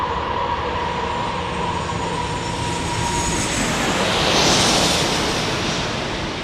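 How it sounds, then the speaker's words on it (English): A Southwest Airlines airliner arriving at San Diego roars steadily and loudly, its engine noise broadening and swelling to a peak near the end as it passes close by, with a high whine layered over the rumble; no one speaks. "There comes our next arrival from Southwest Airlines."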